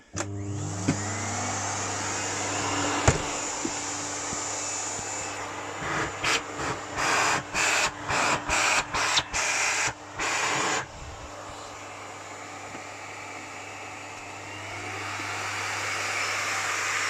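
A Miele Cat And Dog 5000 2000W bagged vacuum cleaner runs with a steady, loud motor drone, broken midway by a stretch of rapid regular on-off pulsing before settling back into its even hum.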